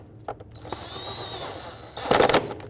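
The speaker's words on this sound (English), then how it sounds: "now tighten up these 2 10mm bolts" A hand ratchet tightens two 10mm bolts near the mass airflow sensor on a 2002-06 Toyota Camry engine, with a few light clicks early on and then a quick burst of louder ratcheting near the end.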